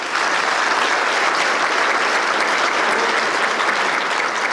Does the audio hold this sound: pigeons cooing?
no